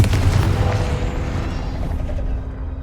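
A Confringo fire spell bursts in Hogwarts Legacy, a loud deep boom that rumbles and fades over a few seconds, alone without voices.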